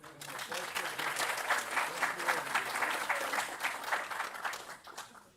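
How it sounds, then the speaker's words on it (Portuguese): An audience at a startup bootcamp panel event applauds in a sustained burst of clapping that swells, holds and then tapers off near the end, with no speech over it. "Palmas para a Carol."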